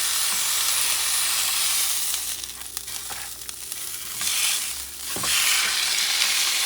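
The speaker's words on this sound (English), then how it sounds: "I'm going to start putting in the lamb chops, which I already put salt on" Salted lamb chops searing in a hot pan for rosemary lamb chops, a loud steady sizzle and hiss that swells and eases as the meat settles, with a few clinks, and no voices.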